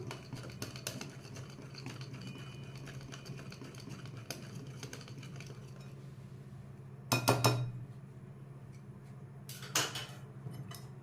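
A spoon clinks against a bowl while pakora batter of bottle gourd, capsicum and coriander with lemon juice is mixed, producing light rapid taps early and two brief louder clatter bursts later over a low steady hum.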